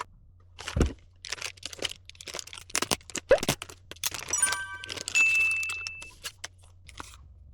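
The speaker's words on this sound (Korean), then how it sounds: "박스를 오픈해보면 비닐로 이쁘게 잘 포장되어 있습니다" Plastic wrap crinkles and crunches while a boxed Tomica Garage toy is unboxed: scattered close crackles and rustles with brief clinks, coming in uneven bursts.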